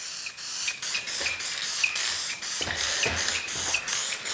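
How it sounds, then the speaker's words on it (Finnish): Silver wheel paint hisses from an old aerosol spray can onto an aluminium engine part of a BMW E30 with a turbocharged M52, in a series of steady bursts separated by short pauses, close and alone. "Maalivalintana tänään on vannehopeaa suoraan spraypurkista"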